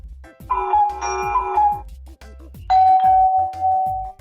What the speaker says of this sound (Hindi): ये तो घर पे बाहर लगी घंटी की आवाज है